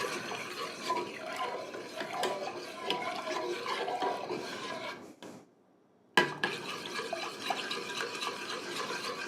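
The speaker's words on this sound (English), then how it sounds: "We definitely want to whisk it" Whisking vanilla bean hash into a banana cream pie mixture in a pot on the stove, a busy continuous scraping and clinking of whisk against metal, briefly pausing before resuming.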